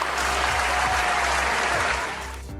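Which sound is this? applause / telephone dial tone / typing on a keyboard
applause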